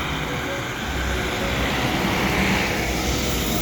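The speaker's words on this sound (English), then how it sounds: "Sorry for the road noise." Road noise fills a New York City street as a dense, steady roar of passing traffic, loud and continuous for the whole stretch, with no clear voices.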